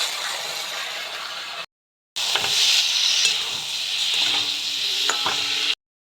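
Mixed vegetables with tomato sauce sautéing in a pan, a bright hissing sizzle with scraping stirs, in two stretches split by a short silence, close and without voices.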